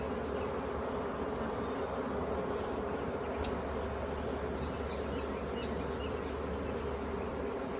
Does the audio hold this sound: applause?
no